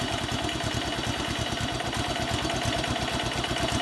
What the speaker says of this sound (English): Just let it idle.